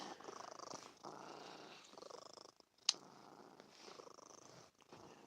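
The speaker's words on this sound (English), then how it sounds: "She's just always purring." A cat purrs softly and close up in a steady rhythmic pattern, with brief pauses between breaths and one short sharp click midway.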